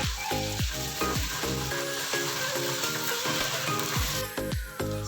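Ginger paste and cumin seeds frying in oil in a pot for mutton handi korma, with a loud continuous sizzle close up and repeated stirring strokes and clinks over it.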